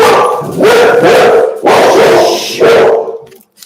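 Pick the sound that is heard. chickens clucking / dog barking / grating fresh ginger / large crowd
dog barking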